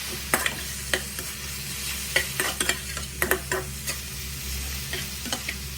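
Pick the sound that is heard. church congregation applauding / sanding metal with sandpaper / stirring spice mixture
stirring spice mixture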